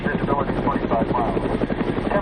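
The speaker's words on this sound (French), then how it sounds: "J'essaie maintenant d'atteindre la frontière iranienne et le sud de l'Afghanistan dans un hélicoptère de la Croix-Rouge." A Red Cross helicopter flying toward the Iranian border and southern Afghanistan throbs with a steady rotor chop, while a voice speaks over it.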